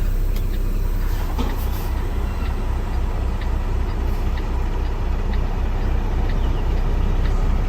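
A semi truck idles and rolls forward after its air brakes release, a steady low diesel rumble close by with faint clicks and hiss over it.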